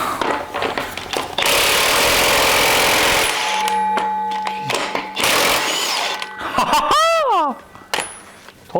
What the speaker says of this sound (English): Bit of heat and impact gun always works for me, no matter what.